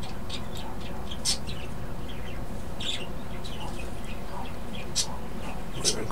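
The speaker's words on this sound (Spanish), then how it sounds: "Páchale, que yo con ese micrófono son los pájaros, no jodas." Small birds chirp and tweet faintly through a microphone, several short scattered calls over a steady background hiss, with muffled room noise underneath.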